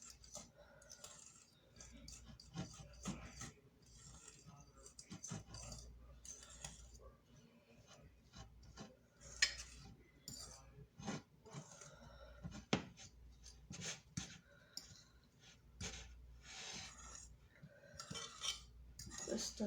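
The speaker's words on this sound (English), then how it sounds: "We're just gonna mix it" A spoon scraping and clinking in a bowl while keto cauliflower pizza dough is mixed, with faint irregular taps and scrapes at close range and soft talking at times.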